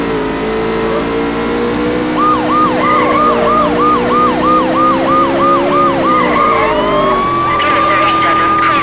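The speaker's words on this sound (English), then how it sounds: "Sirens." Police siren during a Hot Pursuit race in Need for Speed High Stakes, a loud rapid wailing yelp over a revving car engine, shifting to a long rising wail near the end.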